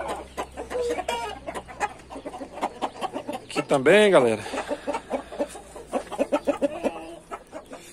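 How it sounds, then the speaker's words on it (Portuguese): A brooding hen clucking and a rooster calling among farmyard noise, with a loud drawn-out squawk midway, while someone talks over much of it. "A galinha tá chocando e o frango já pegando ela."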